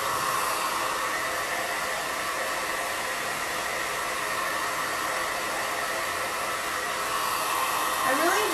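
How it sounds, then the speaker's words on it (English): A hair dryer blows steadily on a farmhouse-style wood board, a loud continuous close-up whoosh that holds constant throughout, with a faint voice near the end. "Let's blow dry this."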